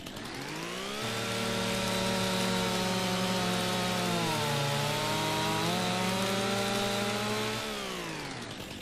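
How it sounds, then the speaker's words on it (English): A chainsaw in the Farming Simulator game, cutting down trees on the Illusion Ranch map in Alma, Missouri. It starts abruptly, holds a loud, steady buzzing whine with slight pitch wavers for several seconds, then stops. "getting these trees cut down as I can get this done here"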